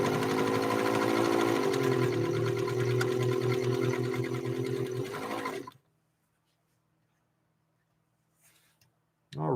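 An Elna Lotus SP sewing machine runs a zigzag stitch through fabric, a steady loud mechanical whir with rapid needle chatter for about six seconds before stopping abruptly into near silence.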